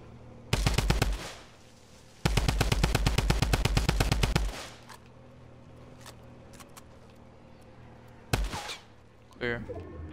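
Loud bursts of rapid automatic Tommy gun fire in a video game, two long sustained strings of shots, then a lone sharp shot and a brief crackle near the end, with background game ambience between bursts.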